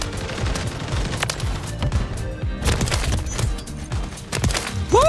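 Rapid automatic gunfire from the JAK Outlaw weapon in the video game Modern Warfare 3, dense sustained bursts with sharp cracks, loud and close, with no speech over it.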